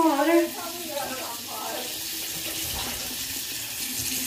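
Tap water runs steadily into a sink while waiting for it to heat up, a constant hissing stream after a brief voice at the start.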